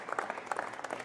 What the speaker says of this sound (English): can we give them a round of applause for coming up and getting this kicked off?